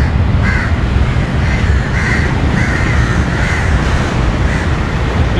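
Crows cawing beside Beira Lake in Colombo, a string of harsh repeated caws over a loud, busy roar of traffic and city noise.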